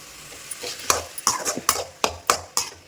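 A utensil stirs onions and tomatoes frying in a pan, giving about eight close, sharp scrapes and clinks in an uneven rhythm over a faint background.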